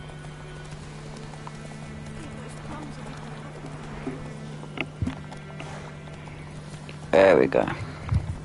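A horse gallops in The Witcher 3, steady hoof clip-clop under a game soundscape, with a short spoken remark and a brief burst of louder noise near the end.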